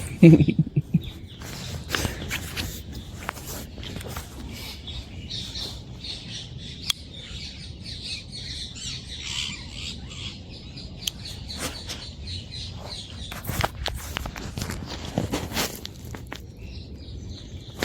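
Birds squawk and chirp repeatedly in the background, scattered calls over a faint outdoor ambience, with occasional rustling steps and a voice at the start.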